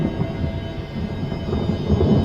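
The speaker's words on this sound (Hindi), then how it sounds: "ठीक उसी वक्त गोल्डन गेट होटल के ऊपर आसमान में बिजली कड़की।" A thunder sound effect from a Hindi horror audio drama rolls in a deep, continuous rumble over falling rain, alone and fairly loud.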